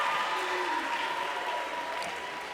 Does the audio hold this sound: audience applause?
yes